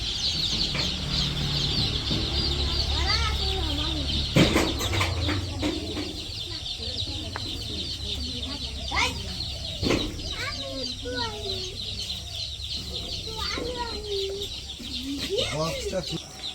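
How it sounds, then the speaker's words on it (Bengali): Baby chicks in a village home chirp in high, repeated peeps over steady background noise, with hens clucking nearby and occasional voices talking. "মুরগির বাচ্চা চিউ চিউ চিউ চিউ করতেছে"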